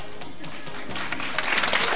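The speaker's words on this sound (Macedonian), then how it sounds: "Добро, аплауз, молам." Audience applause at a school event, faint and brief, swelling slightly toward the end.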